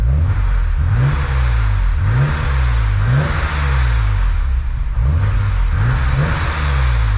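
A BMW M5 E28 engine revs repeatedly, a series of rising blips about once a second, each climbing and falling back, loud and close with a whirring, clattery mechanical edge and no talk.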